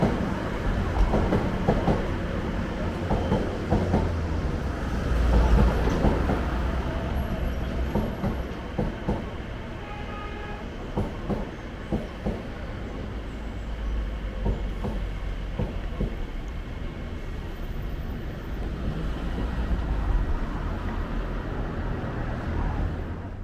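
A train runs along the mainline tracks near Chadwell Heath station on the route into London Liverpool Street, giving a steady, moderately distant rumble with faint wheel clatter that persists through the whole stretch.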